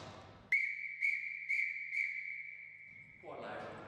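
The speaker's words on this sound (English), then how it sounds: "Acme Thunder whistle." An Acme Thunder whistle at a fire station blows one long, steady, piercing shrill blast with a few pulsed accents, loud and close, used as an evacuation signal; it cuts off into background noise.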